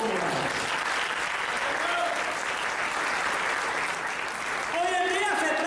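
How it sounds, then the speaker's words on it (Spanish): Church congregation at an evangelistic service claps steadily in a reverberant hall, with voices shouting and praising over the applause and a brief swell near the end. "¿Por qué usted no le da un aplauso al Señor?"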